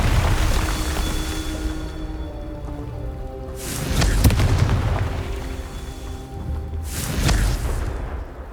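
Confringo blasting curse in the Hogwarts Legacy video game: two loud booming explosions a few seconds apart over a steady rumbling game ambience, each burst rising sharply then rolling off.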